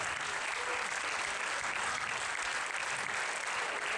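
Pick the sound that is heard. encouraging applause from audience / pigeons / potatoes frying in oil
encouraging applause from audience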